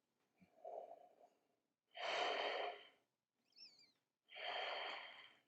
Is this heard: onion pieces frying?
no